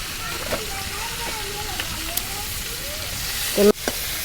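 Pangas fish frying in hot oil in a pan for a rural-style fish curry, a steady close sizzle with faint stirring clatter and one sharp knock near the end.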